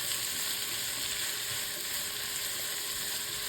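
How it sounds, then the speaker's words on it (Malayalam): Sliced onions sautéing in oil for a chicken curry, a constant hiss of sizzling with occasional soft scrapes of stirring, close and steady with no talking. "സവാള ആഡ് ചെയ്ത് ഇതിന് എണ്ണയിൽ നല്ലപോലെ അതും വഴന്ന് വരണം, നല്ലപോലെ ഇളക്കിയിടുക."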